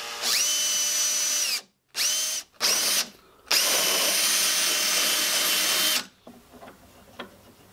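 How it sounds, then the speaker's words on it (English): A power drill whines up to speed and bores holes into an acoustic guitar's wooden fretboard in several close, loud bursts separated by short pauses, followed by quieter handling noises. "I'm gonna drill the holes here that line up with these"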